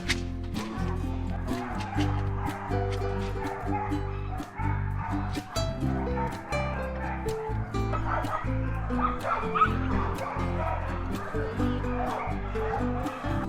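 A puppy yips, barks and whimpers in quick repeated bursts close by, mixed with talk and some bird sounds in the background.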